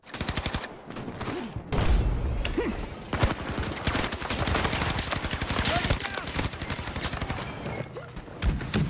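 Gunfire in a Battlefield 2042 gunfight, dense rapid automatic bursts nearly nonstop for the whole stretch, loud and close, with brief pauses and some faint voice under the shooting.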